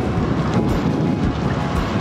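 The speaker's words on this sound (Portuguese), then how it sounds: "com rajadas de vento" Strong wind gusts buffet the microphone on a bikepacking ride along Portugal's Estrada Nacional 2 near Vila de Rei, a loud, continuous roaring rush with no talking.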